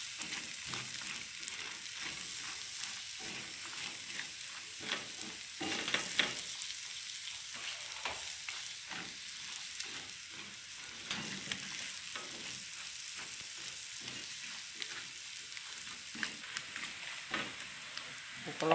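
A quiet, continuous sizzle of carrot farofa frying in a pan, with soft stirring taps scattered throughout.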